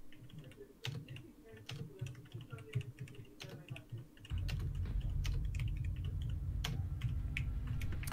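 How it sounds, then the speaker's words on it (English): Typing on a new computer keyboard, a steady run of crisp, clacky keystrokes like a typewriter, heard close up over a low background hum that grows louder partway through. "I received a new keyboard. I can hear. It sounds like a typewriter."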